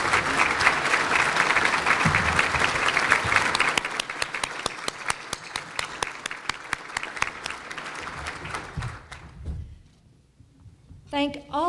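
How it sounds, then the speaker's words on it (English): City staff applauded by the audience at a 2014 State of the City address in Suffolk, dense clapping that thins into scattered individual claps and fades out, followed by a brief voice at the end. "maybe it is time to do a few applause"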